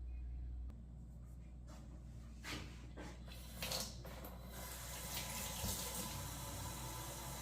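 Running tap water splashes steadily into a sink as cured chicken pieces are rinsed, a continuous mid-level wash with a few louder bursts where the flow hits the meat.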